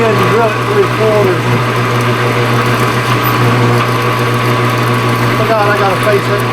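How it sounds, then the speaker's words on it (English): A metal lathe drills a 3/4 inch hole, giving a steady motor hum with a constant pitch and a light whine. Brief squeaks of metal cutting come near the start and near the end, and no one speaks. "I'm going to go ahead and drill it 3/4."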